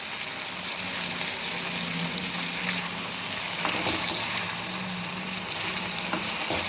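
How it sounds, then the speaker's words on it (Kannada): Tomato and curry leaves fry in a pan for bitter gourd palya, giving a close, continuous loud sizzle and crackle with faint stirring scrapes throughout. "ಈಗ ಇದಕ್ಕೆ ನಾನು ಟೊಮೊಟೊನ ಸೇರಿಸ್ತಾ ಇದ್ದೀನಿ ಮತ್ತು ಕರಿಬೇವಿನ ಸೊಪ್ಪನ್ನು ಕೂಡ ಸೇರಿಸ್ತಾ ಇದ್ದೀನಿ"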